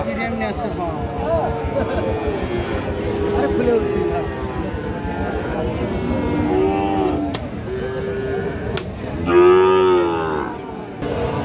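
Several loud cattle moos ring out close by over a steady murmur of crowd chatter and background voices at a busy outdoor cattle market where Sahiwal bull calves are sold.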